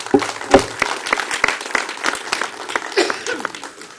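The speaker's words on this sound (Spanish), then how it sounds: "te recibimos con un aplauso" An audience at a Mexican parliamentary budget hearing claps in a steady burst of applause, dense at first and gradually thinning, with no voices over it.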